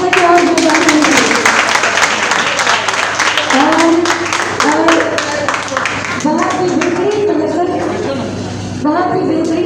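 An audience claps after a stage play about dowry, with loud rhythmic applause under someone speaking into a microphone over it.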